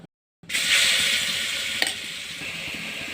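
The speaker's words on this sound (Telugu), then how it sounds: "ఇప్పుడు ఈ మిక్సీ పట్టుకున్న బెల్లం కొబ్బరిని అయితే ఆ గిన్నెలో వేసుకుంటాను" Ground coconut and jaggery tipped into a cooking pot on the stove for coconut laddu, giving a steady broad sizzling, stirring rush that starts abruptly after a brief silence, with one sharp clink partway through, close and fairly loud.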